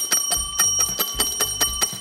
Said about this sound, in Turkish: Zile basabilirsin.